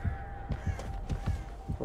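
Crows caw in a rapid series of short calls within the horror video game Dead by Daylight, moderately loud over a steady game ambience with no talk.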